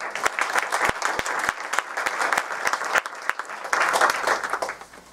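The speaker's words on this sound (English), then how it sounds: "Let's give him a warm round of applause." A panel audience at a San Francisco event on race and the law breaks into applause, scattered sharp claps first, then a fuller, steady round that tapers off near the end.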